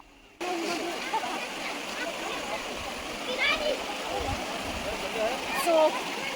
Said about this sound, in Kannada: ಸೊ ಅಲ್ಲಿಂದ ನೀರು ಹರಿಯುತ್ತೆ